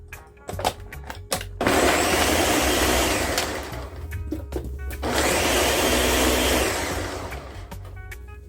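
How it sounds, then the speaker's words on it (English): A blender whirs loudly in two long bursts separated by a short pause, with clicks and clatter before, between and after the runs. "So I close the blender now."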